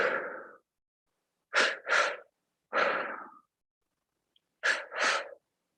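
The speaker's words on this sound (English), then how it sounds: "long exhale" Breathing during a meditation breathing exercise: close, breathy inhales through the mouth in quick double pulls, alternating with long, slow audible exhales, separated by silence.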